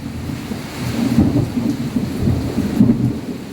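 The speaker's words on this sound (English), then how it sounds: "Rain, lightning, and thunder." A thunderstorm with steady rain falling and low rolling thunder rumbling through, a dense continuous wash of sound with no voices.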